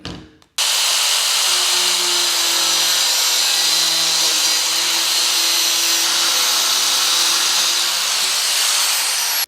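A power tool cuts steadily through material for about nine seconds, loud, close and continuous with a harsh broadband whine and no talking.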